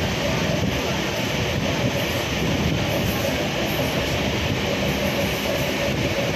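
A train rumbles steadily close by near a station, a continuous broadband roar with faint clacking, heard alone without talk.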